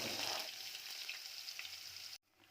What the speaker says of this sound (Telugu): ఆయిల్ హీట్ ఎక్కాక సన్నగా తరిగి పెట్టుకున్న ఆనియన్స్ వేసుకోవాలి.